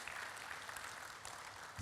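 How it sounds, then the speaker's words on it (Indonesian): A church congregation claps during a sermon, a faint, diffuse patter of applause spread through the hall, steady for a couple of seconds with no voices over it. "Tepuk tangannya meriah buat Yesus."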